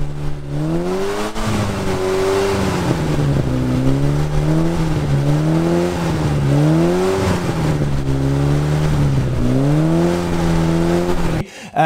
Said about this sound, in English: So I've decided to plug a theremin via some electronics into the throttle cable of my car.